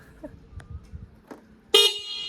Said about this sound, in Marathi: हॉर्न वाजतंय, आपण चाललो आहे, हॉर्न वाजवायला, हॉर्नचा आवाज घुमतोय